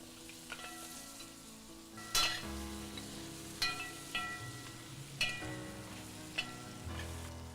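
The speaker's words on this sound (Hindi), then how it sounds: "अब ये गोश्त है अच्छे से भून चुका है" Gosht slow-fried with spices in a pot, a low steady sizzle broken by several sharp scraping strokes of a spoon against the pan at irregular intervals, near and with no talk.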